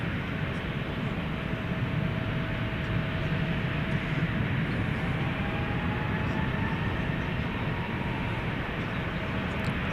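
Flight 767 bound for Louisville moves at DFW Airport at night, a steady low broadband engine rumble with a faint whining tone, continuous and fairly distant.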